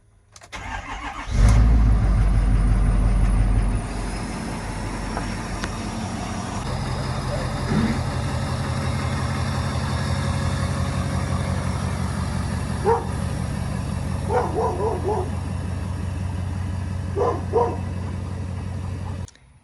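A Ford 6.7 Powerstroke diesel truck cranks and fires with a loud burst, then settles into a steady, rumbling idle up close, while a dog barks several times in the background.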